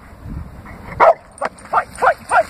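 A pit bull barks in training, four or five sharp, loud barks in an uneven burst close by, with a short growly sound at the start.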